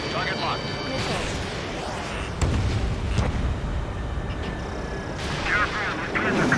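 Enemy gunfire in the aerial combat video game Ace Combat 7 rolls as a continuous booming rumble with sharper bursts, while radio voices talk over the battle.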